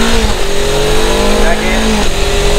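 A Suzuki GS500F motorcycle with a 17-tooth front sprocket pulls hard in first gear, its engine note rising loud and close with a steady drone and wind noise.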